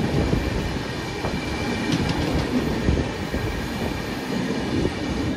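A train stands at Dhanbad Junction station, its rumbling and clanking carriages and engine noise forming a loud, steady wash with scattered metallic clicks and faint background station noise.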